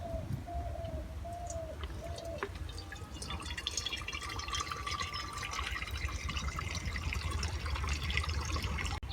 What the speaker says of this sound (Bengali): কড়ার মধ্যে জলটা দিয়ে দেব।